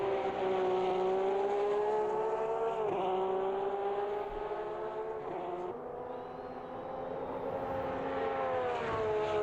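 A Porsche GT3 Cup race car in a sim racing game at Brazil holds a steady, droning engine note whose pitch dips briefly at a few gear changes and then climbs again. It plays alone, with no talk over it.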